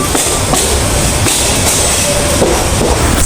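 Udayan Express from Chattogram rolling into a platform at Sylhet station, a steady loud rumble of railcars with rhythmic wheel clatter and a faint brief squeal, no voices.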